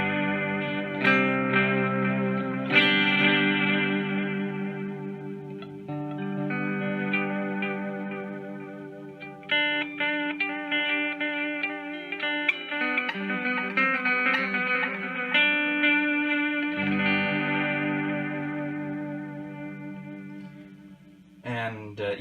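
Guitar played through a Toronto City Transit digital delay pedal, with chords and single notes trailing into layered echo repeats that blur into a continuous wash, steady and close.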